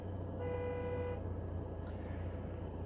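A car alarm sounds outdoors as a steady, fairly faint electronic tone that holds for under a second before stopping, over a constant low background hum.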